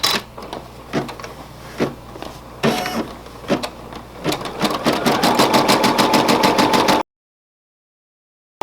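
An embroidery machine stitches a monogram with a rapid mechanical clatter. The stitching starts with spaced thuds, speeds into a steady, loud pulsing rhythm, then stops abruptly into silence.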